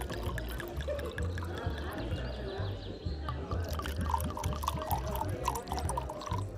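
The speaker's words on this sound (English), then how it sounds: "gracefully pouring a generous serving of the expensive wine into the glasses" Expensive wine poured into glasses by a waiter at a restaurant dinner table, a soft continuous liquid stream with gentle splashing, quiet and close amid faint dining-room ambience.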